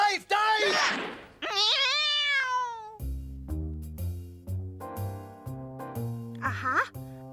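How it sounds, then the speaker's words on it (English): A cartoon cat lets out two long, drawn-out meows, loud and close, which then give way to bouncy melodic music with plucked notes. "It's the cat!"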